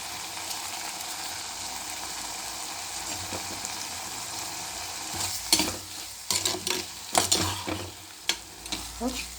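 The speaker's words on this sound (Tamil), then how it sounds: "கலக்கி விட்டுங்க இதை நல்லா இப்படியே கலக்கி விட்டுறாங்க" Dried fish thokku (karuvadu) frying in a pan sizzles steadily, then is stirred vigorously with a spoon. The stirring brings a burst of close, irregular scrapes and clanks against the pan in the last few seconds.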